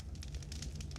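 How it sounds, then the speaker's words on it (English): A big campfire burns quietly, with a low, steady rumble and scattered soft crackles and pops coming through a faint ambient bed. "There's the campfire burning. It's a very big fire."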